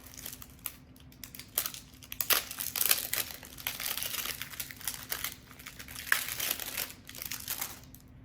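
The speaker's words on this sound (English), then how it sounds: "So if you buy a new cartridge, this is for a 7720. It's going to come wrapped" A plastic wrapper on a new Epson 7720 printer ink cartridge crinkles and crackles up close, in irregular bursts with short pauses, with no voices.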